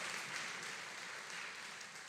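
Applause from a church congregation during a Sunday Mass homily at Christ the King in Tampa, a steady, soft wash of clapping heard from a distance.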